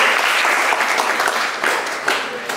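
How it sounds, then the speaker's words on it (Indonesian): Applause from a crowd at a breaking-of-the-fast gathering, a steady dense wash of many hands clapping together, loud and sustained without pause. "Tepuk tangan untuk kita semua."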